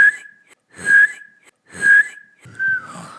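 A person imitates a cricket by whistling a high steady tone combined with a soft snoring-like throat rustle, producing four short chirping bursts separated by brief pauses.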